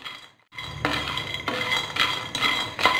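Peanuts being stirred in a pan while dry roasting over a low flame for groundnut chutney, giving repeated close scraping clinks and rattles in short bursts, with no voices.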